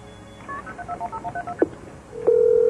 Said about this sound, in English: I picked up the phone and I dialed 911.